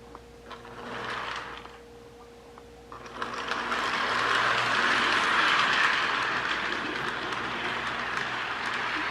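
A custom K-Line S2 New Haven switcher model train, built from a Kusan mold, runs along its track with a steady rolling whir that grows louder and fuller after a few seconds, no talking.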